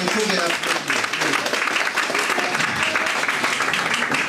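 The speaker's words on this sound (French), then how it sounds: "vous pouvez applaudir" An audience applauds to welcome Claudia Roth, president of the Greens, with steady, full clapping from a sizable crowd throughout and a voice faintly underneath.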